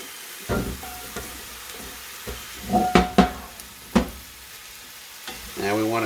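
Cooked, strained green beans sizzle in a hot skillet with bacon, with a few sharp clatters of stirring in the pan and a louder hiss rising near the end.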